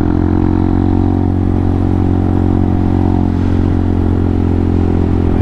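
A Honda Hawk 250 motorcycle engine runs steadily and loudly up close, a continuous droning idle with faint rattly clatter and no voices.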